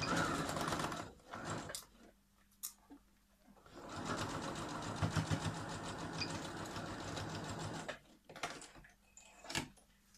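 A sewing machine stitches a 1 cm seam on a double-compartment fabric pencil case, running in bursts of steady rapid stitching with brief pauses between, close and clear, with no talk.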